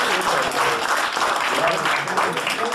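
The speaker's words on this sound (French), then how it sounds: "on peut les applaudir tous les deux" Guests at an eightieth birthday celebration in Lachamp-Raphaël applaud two honoured guests, loud close clapping from a room full of people with some voices mixed in.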